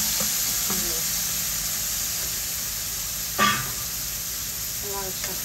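Onions frying in a pan for a Bengali home-cooked red amaranth greens dish, a steady soft sizzle throughout with a few brief clinks and stirring scrapes, close by.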